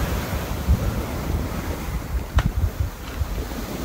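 Ocean waves break on a shore beside a forest reserve, a steady rushing wash of surf with heavy wind buffeting the microphone, loud and continuous with one brief sharp sound near the middle.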